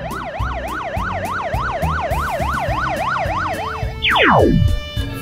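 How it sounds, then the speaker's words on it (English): A police car siren wails in a steady, fast up-and-down pattern over a light children's song, ending with a quick descending sweep. "Police car."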